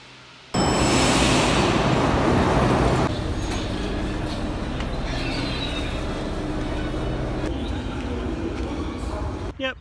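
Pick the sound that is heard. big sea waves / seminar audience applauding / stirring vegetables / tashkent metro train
tashkent metro train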